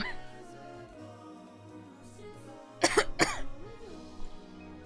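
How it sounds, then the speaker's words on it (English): Two sharp, close coughs break through a quiet stretch of background music, followed by a faint throaty sound. "I cough. Pathetically."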